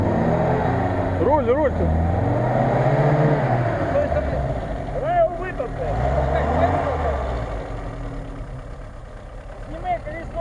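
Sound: VAZ-2106 Zhiguli car engine revving off-road

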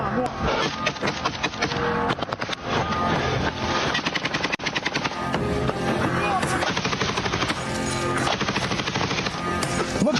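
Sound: automatic rifle gunfire in combat

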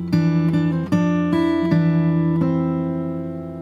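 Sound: fingerstyle guitar playing bar of a song

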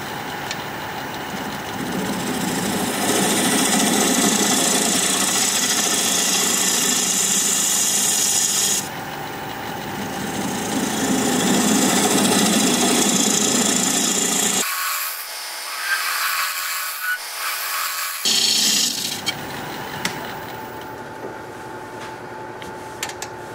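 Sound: wood lathe turning, cutting a recess in wood

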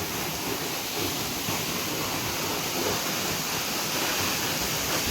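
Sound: powerful waterfall in a deep Thai forest

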